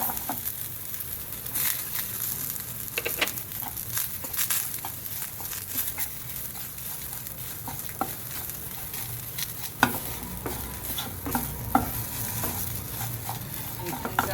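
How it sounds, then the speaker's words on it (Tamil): Curry leaves and green chillies fry and sizzle in a pan of oil for cucumber rice, with a constant crackling hiss and occasional clinks and scrapes of stirring. "கருவேப்பிலை சேர்த்துக்கிறேன்"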